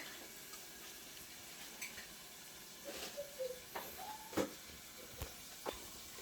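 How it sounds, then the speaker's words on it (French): Coconut milk poured over cod fillets in a hot pan, giving a steady sizzle and hiss with occasional stirring and clinks of utensils against the pan. "Là, je vais mettre le lait de coco."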